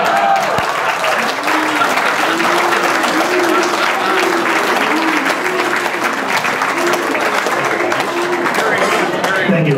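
Wedding reception guests clap for Bruce Watson, a Collingwood supporter, in a sustained round of applause from a room full of people, loud and even throughout, with voices talking and calling over the clapping.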